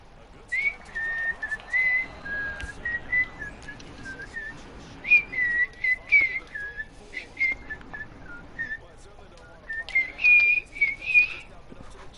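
Someone whistles a tune in a string of short, clear melodic phrases with small gaps between them, close and fairly loud over a quiet background.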